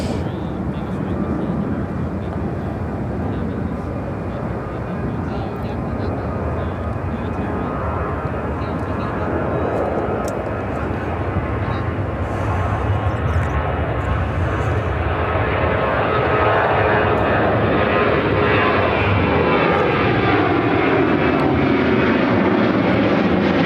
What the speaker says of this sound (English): Is that a Grand Caravan landing?